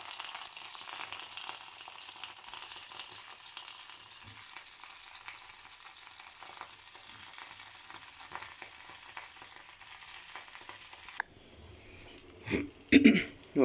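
Cut brinjal pieces fry in hot oil, a steady soft crackling sizzle heard close, until a sudden shift near the end brings a few thumps and handling noises.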